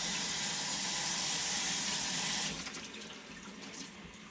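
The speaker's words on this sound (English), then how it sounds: "Let the water run down through there." Tap water runs into a sink over salad leaves, a loud steady splashing hiss that cuts off partway, leaving a quieter drip and trickle as it drains.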